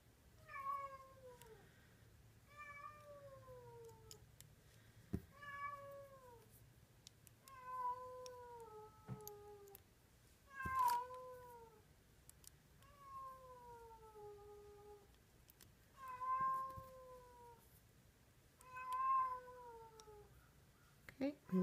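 A house cat meows over and over, wanting to go outside, with about eight drawn-out, falling cries spaced every two to three seconds, close by in a quiet room.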